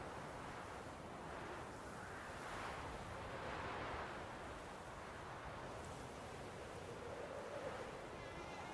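A mosquito whines near a listener's ear in a Witcher audio drama, a thin buzzing that drifts over a soft, airy wash of forest ambience at dusk and stays faint and steady.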